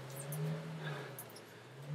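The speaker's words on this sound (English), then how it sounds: "Someone's revving a van, it seems." A van engine revs outside, heard at a distance as a steady low drone that swells in a couple of places, faint behind the room and with no talk over it.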